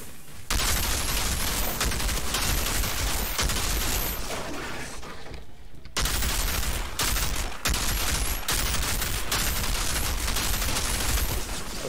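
An LMG in the Outriders video game fires in long, loud bursts of rapid shots, broken by a few short pauses and one longer gap before the heavy automatic fire resumes.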